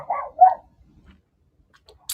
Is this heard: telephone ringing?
no